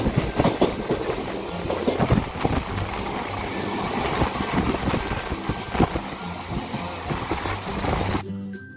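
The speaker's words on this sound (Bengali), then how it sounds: "আর দেখুন আমাদের ট্রেনও কিন্তু ছেড়ে দিয়েছে।" Hazarduari Express passenger train pulling out and running along the track, a steady loud rumble of wheels and carriage rattle with rhythmic clacks throughout, cutting off abruptly near the end.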